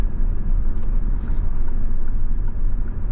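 Learner car on a driving lesson with its engine labouring at low revs, a steady low rumble heard from inside the cabin, loud and continuous with no talk.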